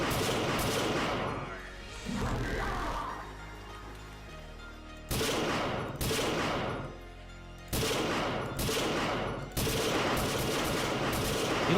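Gunfire bursts from a DOS video game: rapid volleys of loud, crackling shots come in several separate bursts with brief pauses between them, with faint talk underneath.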